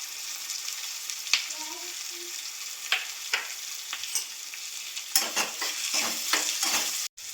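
Onion, chili and tomato fry in oil in a pan with a steady soft sizzle, while a spoon scrapes and stirs in repeated short strokes and taps against the metal.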